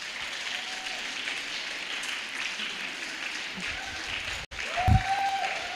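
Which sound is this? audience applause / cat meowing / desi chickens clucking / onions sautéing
audience applause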